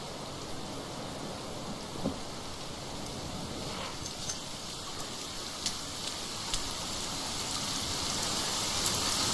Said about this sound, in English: it's starting to rain very hard